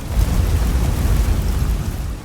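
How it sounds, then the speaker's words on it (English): Heavy explosions in the Aliens: Dark Descent video game, a loud, continuous rumbling roar of several blasts merging into one dense wall of sound with no clear gaps. "Showing multiple explosions from up here."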